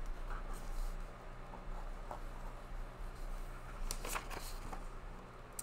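A pen or marker scratches quietly across a surface while asymptotes are sketched on a graph, soft irregular strokes with a few sharper scrapes near the end, faint and without talk.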